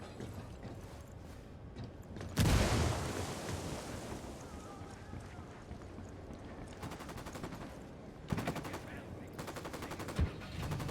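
An explosion from a thrown frag grenade in Ghost Recon Wildlands bursts loudly, then a roar of debris and rumble trails off before sharp bursts of automatic gunfire rattle near the end.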